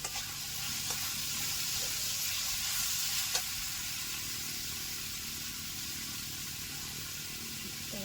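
Leftover food being sautéed in a pan, a quiet steady sizzle with a couple of faint utensil taps, fairly soft and without any talking.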